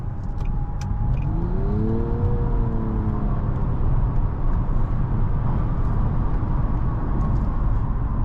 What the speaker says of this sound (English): Seems like there's a little bit more wind noise than what I would want.